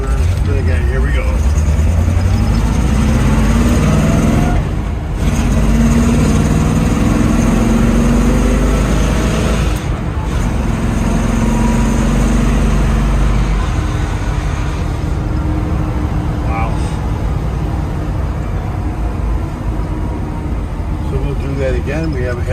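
A 1966 Chevrolet Corvette 427 L36 V8 convertible with a frame-off restoration drives along a road, its engine rumbling loud and steady throughout, with gear shifts audible and someone talking over it.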